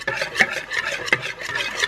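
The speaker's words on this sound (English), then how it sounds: "So I need to whisk this all up" Egg and milk whisked together in a bowl for French toast: rapid, steady scraping and swishing strokes in a quick rhythm, close and clear, with no talking.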